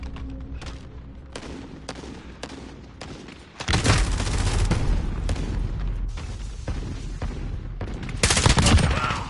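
Heavy gunfire in a military shooter game, scattered single shots at first, then dense sustained automatic fire with booming blasts, loud and close, building to a heavier burst at the end.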